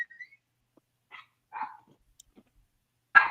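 A dog barking excitedly indoors, a few short yips and whimpers scattered across the stretch, ending in one louder bark.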